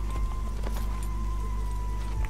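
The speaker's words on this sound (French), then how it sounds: "allez régale-toi petit cheval" Horse hooves clip-clopping in the Assassin's Creed game in medieval Jerusalem, a few soft irregular hoof thuds over a low steady hum, close by and fairly faint.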